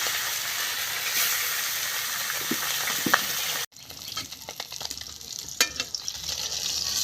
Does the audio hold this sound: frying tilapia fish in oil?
yes